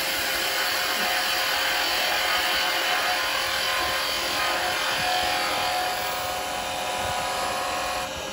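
Carbide tool cutting a wooden Christmas tree spinning on a lathe, giving a loud, steady, broadband scraping hiss that runs unbroken for several seconds, close up with no voices.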